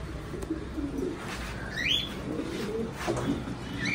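Domestic pigeons kept for sale in a breeder's loft coo in low, soft, repeated bursts, with a few sharp chirps from other small birds mixed in close by.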